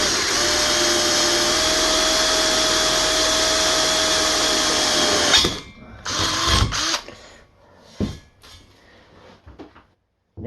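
An electric drill bores through a steel pipe with a dull bit, a steady loud whine holding for about five seconds before cutting off, followed by scattered clanks and handling noises.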